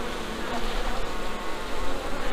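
Dense, steady buzzing of many honeybees close by in an opened split hive, a continuous droning hum with no pauses.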